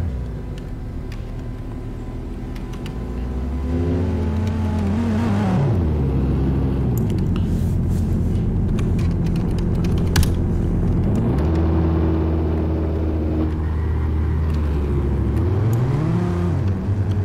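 A car engine in the Greenville roleplay video game hums steadily while driving, its pitch sliding up and down through repeated gear changes and revs over a constant low rumble, with no talking.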